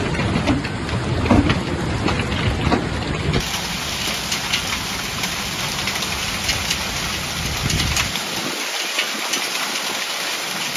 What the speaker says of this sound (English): Impressive footage of hail falling on Lake Thun.